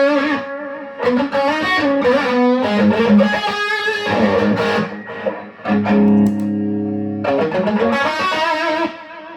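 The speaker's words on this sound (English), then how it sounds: "So it kind of gives you like a tape echo kind of sound" A distorted electric guitar through a Marshall 1987x amp with delay in the effects loop plays a phrase, each note trailing into repeating tape-echo-like repeats, with a sustained chord ringing out near the end.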